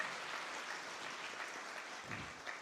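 Audience applause for teachers at a school knowledge-contest award ceremony, a steady close wash of many hands clapping throughout, with no talk over it.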